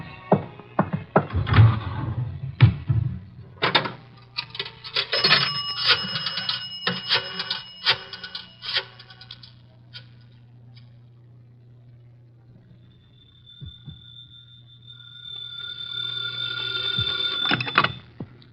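A telephone rings in bursts of insistent bell clatter during a call from a public booth, mixed with fumbling handset noises and a later high steady ringing tone.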